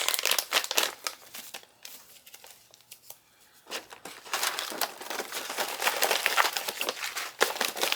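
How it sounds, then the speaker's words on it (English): Plastic food storage pouches holding caramelized onions and beef noodles crinkle and rustle as 300cc oxygen absorbers are dropped in, a continuous close crackling that thins briefly midway before resuming loudly. "Now I'm going to put 1 300cc O2 absorber in each pouch."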